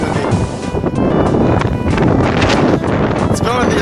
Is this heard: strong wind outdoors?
yes